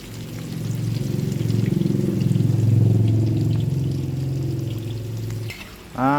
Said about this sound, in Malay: Kita goreng dalam minyak bekas kita goreng ayam ni.